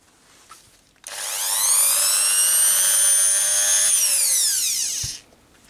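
A Hilda MD13 mini rotary drill runs alone for about four seconds, a loud, steady high-pitched whine that starts abruptly and spins down at the end.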